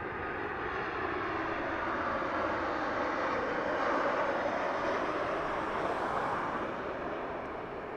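A fixed-wing airliner takes off from Las Vegas Harry Reid International Airport, its engines producing a steady, broad roar that swells slightly mid-clip and holds at a moderate distance, with no voices.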